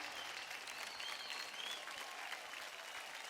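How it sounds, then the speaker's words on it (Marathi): Studio audience applause on a Marathi TV dance competition show: steady, dense clapping from a crowd, moderately distant and continuous throughout, with no one speaking over it. "जोरदार टाळ्या होऊन जाऊ द्या आपल्या पूजासाठी."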